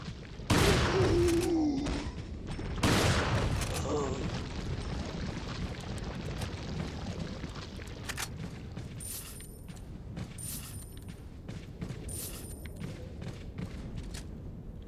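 Shotgun blasts in Resident Evil 4, two loud booming shots early on followed by mechanical clatter and lighter scattered impacts in a quieter stretch.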